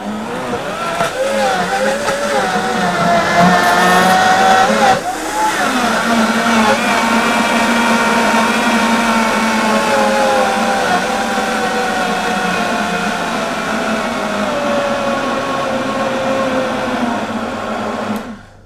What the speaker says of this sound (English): Make sure your blender's on low, flick it on.